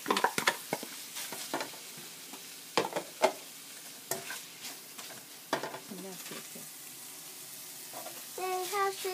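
Rice frying in a pan for Congolese fried rice, stirred with a steady crackling sizzle under repeated sharp scrapes and clanks of the utensil, with brief voices near the end.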